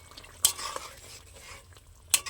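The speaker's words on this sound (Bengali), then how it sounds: "একটু হালকা করে নাড়িয়ে দিলাম" Snakehead fish curry being stirred gently in a pan, with two sharp utensil clinks against the pan and quiet scraping and faint sizzling between them; no talking.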